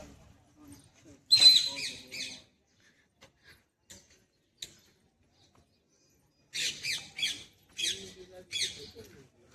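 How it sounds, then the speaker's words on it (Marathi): Two parrots perched at the old Kamala Devi temple in Karmala give short bursts of squawks and chirps, a brief cluster early on and several more calls near the end, with quiet gaps between. "हे बघा आमचे दोन पोपट"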